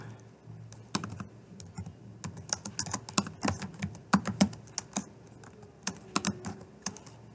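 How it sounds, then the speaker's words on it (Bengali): Python code typed on a computer keyboard: a steady run of crisp, close key clicks in an irregular rhythm, with a few louder taps, heard alone with no talk. "এইখানে আমি লিখব আব্দুর রহমান।"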